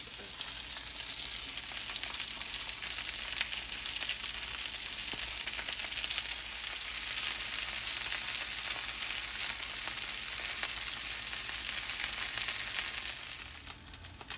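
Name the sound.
onions simmering in butter with parsley beside schnitzel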